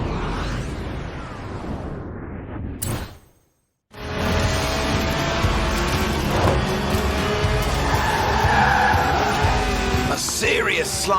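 A Lotus Elise with a 1.8-litre engine, about 190 horsepower and under 700 kilos, slides sideways in Forza Horizon 4 with loud tire squeal and engine roar. It is cut by a brief silent gap, then continues steadily.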